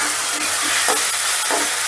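Ginger, garlic and green chili paste fry with onions in a pan for a soybean and chana dal dish, giving a steady close hiss of sizzling oil with faint stirring scrapes.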